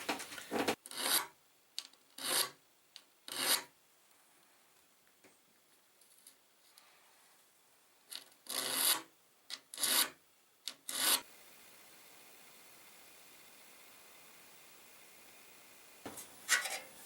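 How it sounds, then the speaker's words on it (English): A three-sided file scraping along the teeth of an old crosscut saw under restoration, heard as a series of short, sharp, close rasping strokes in irregular bursts with quiet gaps between them and no talk. "I cleaned up the teeth with a 3-sided file, making sure to follow the edge."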